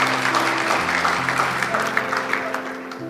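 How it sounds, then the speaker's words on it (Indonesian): A church congregation claps together in sustained, dense applause, loud and continuous with a steady busy texture, over a low musical drone. "Saya berikan tepuk tangan bagi Tuhan Yesus Kristus."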